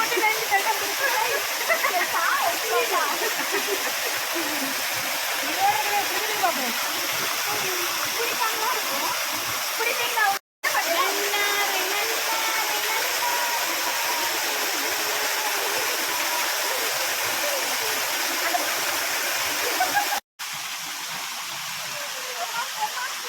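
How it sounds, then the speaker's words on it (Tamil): A waterfall on a countryside nature outing pours steadily in a continuous broadband roar, loud and close, with two brief dropouts in the flow of sound. "அருவி பார்த்தாச்சா நீ"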